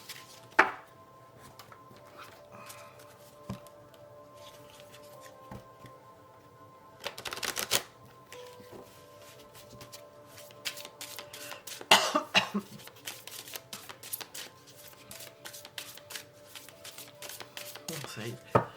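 Oracle cards shuffled during a tarot reading: soft, quiet riffling bursts come in scattered clusters, with faint background voice and small handling noises between them.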